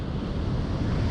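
Waves break on a hectic stretch of beach at Corringle Slips in Gippsland, a loud, steady roar of surf mixed with wind buffeting the microphone.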